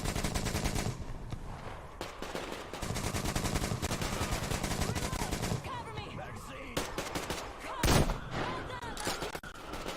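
Rapid gunfire in the Metro Exodus shooter game, dense bursts of automatic shots with a pause and a single heavy blast near the end, loud and close, with a faint voice underneath.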